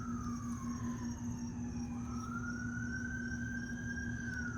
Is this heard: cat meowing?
no